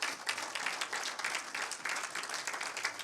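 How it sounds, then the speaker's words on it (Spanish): Church congregation applauding during a Spanish-language sermon, a lively burst of many hands clapping at moderate distance with an uneven, pulsing texture. "¿Le podemos dar un aplauso al Espíritu Santo en esta hora,"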